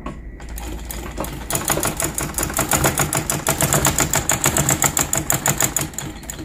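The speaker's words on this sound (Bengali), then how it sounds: "তো আমি লুজ যেহেতু করলাম, তো এখন চেক করে সেলাই করে দেখি কীরকম হয়।" A sewing machine stitches fabric, starting after a brief pause and settling into a loud, fast, steady rhythmic clatter of needle strokes that continues to the end, with no talking.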